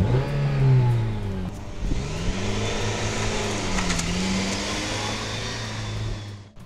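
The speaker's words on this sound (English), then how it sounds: "When you really stomp on the accelerator, boy, this engine comes alive." An Acura ILX's engine revs hard under heavy throttle, a loud, steady mid-pitched drone whose pitch sweeps up and shifts through gears across the run, with no talking.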